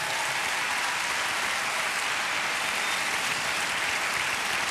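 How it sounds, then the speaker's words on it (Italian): Sustained audience applause for a live band during a comedy stage show, dense, steady clapping filling the whole stretch with no voices over it. "di cui va subito un grande applauso"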